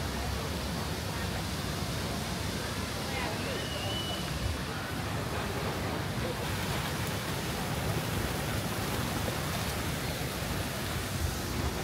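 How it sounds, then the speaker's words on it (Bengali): The waterfall at Batu Caves in Malaysia pours with a soft, constant rushing hiss. The wash of water holds steady at low volume and never breaks or changes. "ঝর্ণা"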